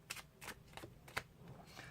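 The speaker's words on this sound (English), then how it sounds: "Give the pack a shuffle or 2, again, keeping that on the bottom." A deck of playing cards is shuffled by hand in quiet, quick crisp riffling bursts, about five in a row, close up and with no talking.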